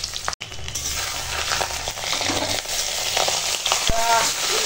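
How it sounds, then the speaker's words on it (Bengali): Eggs frying in oil in a pan, a steady close crackling sizzle running throughout with a few light clinks and scrapes. "তো ডিমটা ভেজে নিই।"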